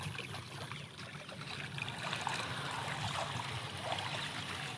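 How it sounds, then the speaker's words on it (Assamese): A small stream runs through a tea garden near Baghjan in Tinsukia, giving a steady, even wash of flowing water that holds at a constant level throughout. "এটা জুৰি বৈ আহিছে ইফালৰ পৰা"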